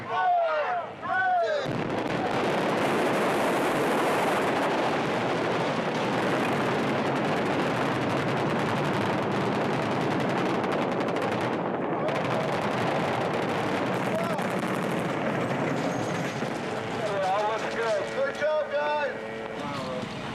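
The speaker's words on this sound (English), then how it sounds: "Even though it wasn't a real explosion, it certainly created the effect." A simulated explosion effect on the Transformers (2007) movie set produces a long, loud, rumbling blast with sustained roaring and crackling. Voices are heard faintly at the start and end.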